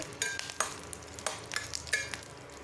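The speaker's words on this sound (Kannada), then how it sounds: "ಈ ಪ್ರಮಾಣದಲ್ಲಿ ಹುಣಸೆಹಣ್ಣನ್ನು ಸೇರಿಸಿ ಇದನ್ನು ಸಹ ಹುರಿತಾ ಇದ್ದೀನಿ" Tamarind frying in oil in a pan for peanut chutney powder, a soft sizzle under quiet, intermittent stirring scrapes and clinks, close and faint with no voices.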